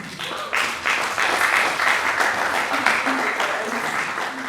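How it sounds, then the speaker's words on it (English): Audience applause at an energy symposium fills the room with dense, sustained clapping from a crowd, steady and fairly loud throughout with faint voices beneath. "Let's clap."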